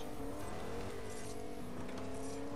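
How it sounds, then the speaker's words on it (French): A car approaches in Fortnite, its engine a steady harmonic drone with rising revs, holding at a fairly constant level for the whole stretch, without talk. "Ouais, une voiture qui arrive."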